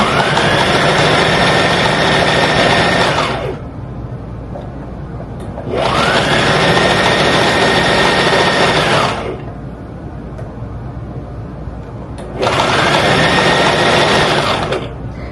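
A sewing machine stitches a thick abaya fabric seam where the presser foot must pass over added bulk. Three steady, loud bursts of whirring motor and needle run for about three seconds each, separated by short pauses.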